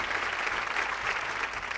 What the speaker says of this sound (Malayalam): കടലിരുമ്പുന്നതിന്റെ കൂടെ ഇവിടെ കയ്യടിയുടെ ശബ്ദവും കേൾക്കാം.